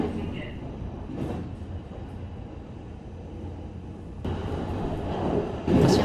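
A Kintetsu limited express train runs along the Kashihara Line, giving a steady low rumble and rail noise that swells near the end, with a voice talking over it.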